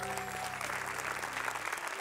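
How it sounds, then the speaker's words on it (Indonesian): Applause from a studio audience at an Indonesian comedy talk show, steady broadband clapping filling the full two seconds at moderate level, easing slightly near the end with faint tonal background underneath. "Tepuk tangan dulu dong."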